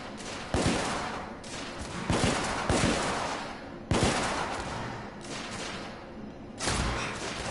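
Repeated bursts of gunfire in The Order: 1886, a Victorian-era shooter game, come in loud clusters of rapid shots with short gaps between volleys, each burst dense and booming, no talking.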